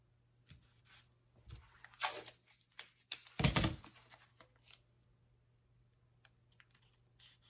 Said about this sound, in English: I'm using the tape to mark out the negative space